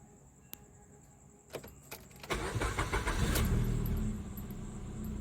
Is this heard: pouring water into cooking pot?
no